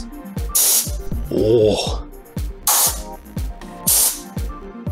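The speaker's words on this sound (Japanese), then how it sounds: "それではこちらのエアダスターを動かしてみようと思います。" An air duster fed by a Minato Works CP-51PRO air compressor gives several short, sharp bursts of hissing air, close and loud, with a person reacting briefly between blasts.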